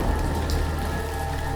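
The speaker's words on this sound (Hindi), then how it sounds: "3 दिनों से आसमान जैसे फट पड़ा था। बारिश रुकने का नाम ही नहीं ले रही थी।" Heavy, steady downpour drumming on surfaces in a village during a days-long monsoon storm, a dense continuous hiss close by with no voices.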